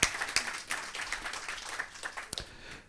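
A small group claps for a few seconds, quiet and scattered, the applause fading toward the end.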